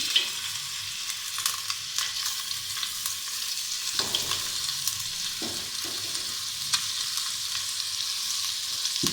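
A chicken and vegetable filling fries in a tablespoon of oil with a bright, constant sizzle and repeated scraping stir strokes, heard alone and up close.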